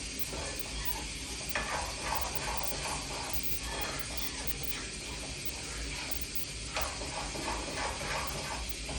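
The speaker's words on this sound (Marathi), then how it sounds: "साखर टाकून त्याला पाक आणते" Sweet puran cooks with sugar into a syrupy mix in a pan, giving a continuous close bubbling sizzle with soft stirring scrapes, fairly steady throughout.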